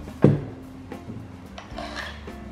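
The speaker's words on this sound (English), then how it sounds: "And we're just going to grind a bit out here. So this is basically like your peppermill at home." A home coffee grinder working on coffee beans, giving a rough, rasping grind that opens with a louder scrape and then goes on as intermittent gritty rubbing, close and fairly quiet.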